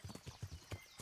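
Horse hooves clip-clop at a steady walking pace in the medieval video game Kingdom Come: Deliverance, six or so soft muffled thuds, faint and a little distant, with no talk over them.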